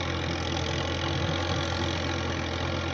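A tractor engine runs steadily at close range while working in a rice field, a continuous loud drone with no pauses and no talk.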